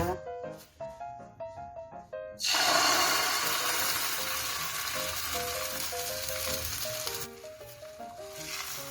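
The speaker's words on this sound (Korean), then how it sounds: "계란 지단을 붙일 건데요. 기름이 너무 많이 안 들어가는 게 좋습니다" After some plinking melodic notes, a loud sizzle of egg hitting a hot, lightly oiled pan takes over and hisses steadily beneath light background music.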